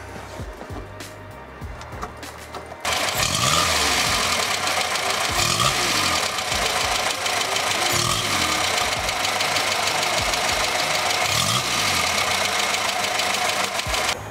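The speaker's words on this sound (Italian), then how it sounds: "Adesso ve la metto in moto così sentiamo il suo rumorino." A small, old-fashioned 1963 Fiat 600 Viotti engine cranks and catches after a quiet start, then settles into a steady, loud, slightly knocking idle that runs on unbroken.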